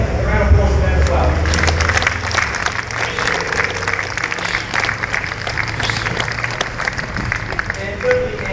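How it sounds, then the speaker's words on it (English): Crowd applause at a #nocleanfeed rally, sustained clapping from many people outdoors, with some talk and voices mixed in beneath. "Let's give a round of applause for them as well."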